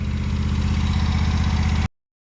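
A Wright Velke 48-inch commercial lawn mower engine runs in a steady, loud, low mechanical drone with a rhythmic pulse, then cuts off abruptly into silence.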